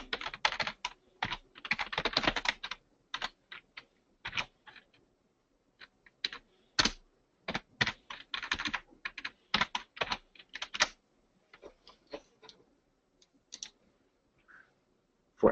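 Someone types on a computer keyboard in irregular bursts of quick, crisp key clicks, close and fairly quiet, with short pauses between runs of typing.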